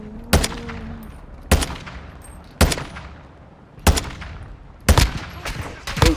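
Heavy single gunshots from Call of Duty MW2 Ground War, including sniper fire, land about every second, five or six loud booming cracks each trailing a long decaying echo.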